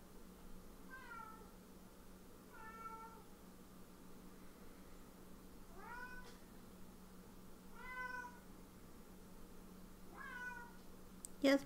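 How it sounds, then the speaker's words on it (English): A cat meows five times at spaced intervals, each call short and rising, fairly quiet against a low steady hum. "Meow."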